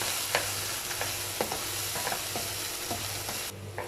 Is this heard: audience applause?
no